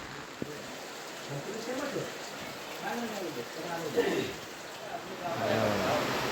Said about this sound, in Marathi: पावसाने घोळ केला पाऊस खूप पडतो